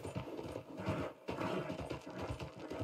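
Horse hooves clopping in Red Dead Redemption 2, a quiet, steady run of soft hoofbeats with a brief pause midway, heard faintly in a western game setting.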